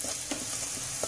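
Cumin seeds, about a teaspoon, sizzling and crackling in hot oil in a kadai for a Bengali hilsa and milk-taro dish, a steady near frying hiss with small pops throughout, no voices.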